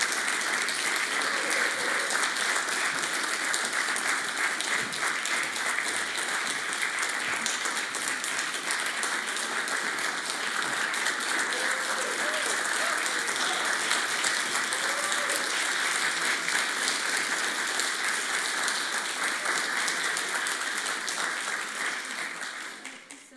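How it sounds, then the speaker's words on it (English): A full audience at a university doctoral thesis final gives a long, steady round of applause as the finalists come onstage, dense and even throughout before it tapers off at the end. "I'd like to invite all the finalists to the stage for a robust round of applause."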